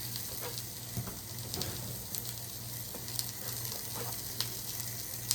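Onions and dried ancho chile toasting in a pan for enfrijoladas give a steady close sizzle and crackle, with scattered pops and a low hum underneath, and no voice.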